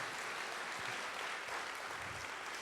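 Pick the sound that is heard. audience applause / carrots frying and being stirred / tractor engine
audience applause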